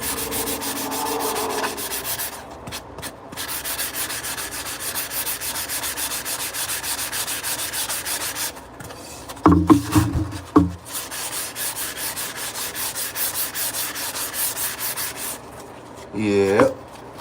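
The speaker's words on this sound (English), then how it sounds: "We're just going to sand those off." Sandpaper rubs back and forth to remove marks from a surface during bathroom grout and backsplash work, a steady close scratching that runs for several seconds with a few louder scrapes and knocks in between.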